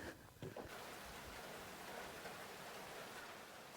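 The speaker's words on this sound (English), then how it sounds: "It's raining, cats and dogs, so we are bound to stay undercover." Heavy, steady rain falls on a farm in Portugal, a dense continuous hiss at close range with a brief muffled knock at the start and no voices.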